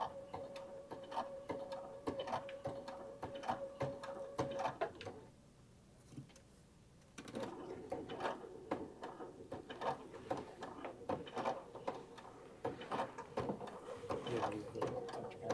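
A sewing machine with a thick needle stitches in steady rapid ticks, stops for about two seconds, then starts again, with people talking faintly underneath.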